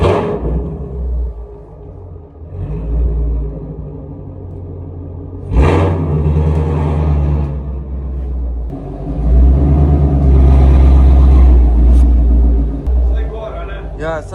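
A Shelby car's engine rumbles low and steady as it backs into a garage, swelling into louder revs toward the end while people talk over it.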